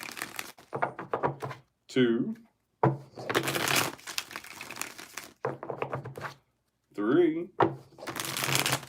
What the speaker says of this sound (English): Let's get 4 shuffles here.